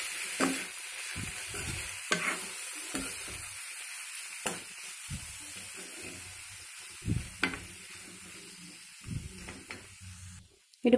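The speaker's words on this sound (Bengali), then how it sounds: "এবার এতে ঢেলে দিন ভেজানো চিড়ে এবং ভালোভাবে এটাকে" Soaked flattened rice (poha) being stirred in a pan for upma, giving soft scraping and shuffling strokes with light sizzling underneath, moderately close and without talk.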